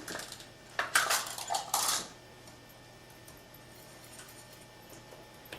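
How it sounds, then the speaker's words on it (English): A grated cheese mixture whisked in a bowl: a short burst of quick metallic clinking and scraping for about a second, then only faint room hiss, with no voices. "let's go ahead and whisk this together"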